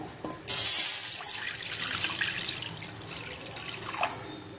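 Water pours from a tap into a pot in a sudden splashing burst, about one and a half tumblers, then keeps trickling and burbling steadily.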